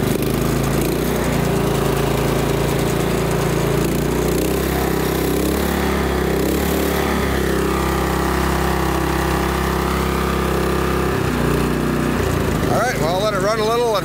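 A small gasoline engine with carburetor cleaner mixed into its fuel runs steadily near a dairy farm after starting, a continuous loud drone that falters briefly near the end.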